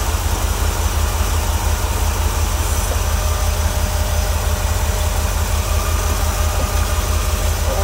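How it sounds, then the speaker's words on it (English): A 1966 Ford Econoline pickup's V8 idles through side-mounted exhaust pipes, a steady, loud, low rumble close by that runs unbroken with no talking. "You hear the pipes on the outside."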